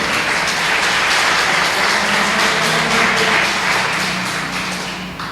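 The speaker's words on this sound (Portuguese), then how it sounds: "E aplauda Jesus bem forte então." A church congregation applauds loudly during a sermon, a thick, continuous wash of clapping that fades slightly at the end.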